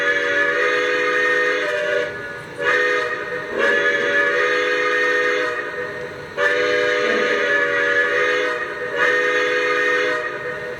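A Lionel Legacy Santa Fe Blue Goose 4-8-4 Northern model steam locomotive whistle sounds in several sustained, chord-like blasts with brief breaks between them, fairly loud and with no talking.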